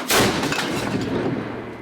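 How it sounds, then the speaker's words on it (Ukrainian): A single loud, booming blast from an M109 self-propelled howitzer with a sharp onset, followed by a long rumbling roar that slowly fades over about two seconds. "Це далекобійна самохідна гаубиця М109."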